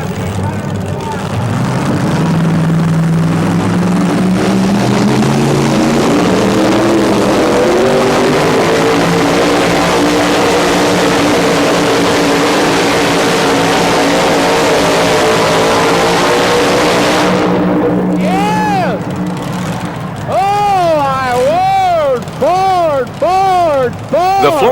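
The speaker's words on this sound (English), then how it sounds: "he's determined to run his supercharged Ford out of the arena." A supercharged Ford truck pulling a sled in an arena, its engine droning loud and sustained under an announcer's voice, then revving in rapid rising and falling bursts near the end.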